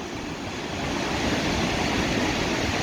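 Steady, full broadband rush of the Rupert River flowing at summer low water below a hydroelectric dam, a continuous roar that swells slightly after the first second and carries on without a break.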